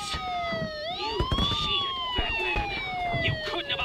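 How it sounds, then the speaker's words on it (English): Police sirens wailing in the Batman: Arkham Asylum video game, several rising and falling tones overlapping loudly over a busy background of voices and thuds. "Sirens."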